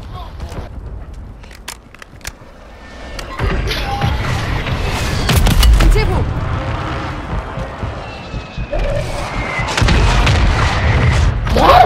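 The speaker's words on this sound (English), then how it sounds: "how the fuck did they hit us with all these fucking precision strikes" Booming explosions from precision strikes in Call of Duty, heavy low thuds rolling in from about three seconds onward and building to a loud, dense barrage with scattered crackling impacts near the end.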